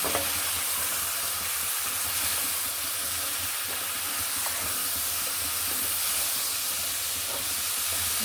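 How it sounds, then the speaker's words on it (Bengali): Dried fish and vegetables sauté in a pan with a steady, loud sizzle and hiss throughout and faint scraping from stirring. "ভালোভাবে কষিয়ে নেব"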